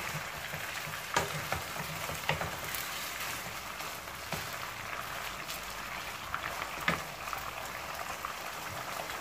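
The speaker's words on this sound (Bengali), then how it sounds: "গোলমরিচের ফাঁকিটা দিয়ে 1 মিনিটের মতো একটু তেলের উপরে একটু ভেজে নিব" Crushed black pepper fries in a little oil in a pan, a steady soft sizzle with a few sharp clicks and scrapes, close and alone.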